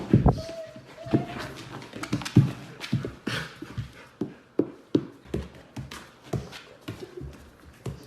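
Dogs panting and softly whimpering at close range, with short breathy bursts and light taps or footsteps scattered through the sounds, in a home setting with no speech.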